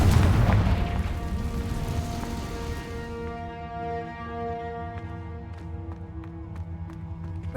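A Confringo fire blast spell explodes in Hogwarts Legacy, a loud booming burst at the start that decays into a long ringing, tonal tail of fading magical resonance.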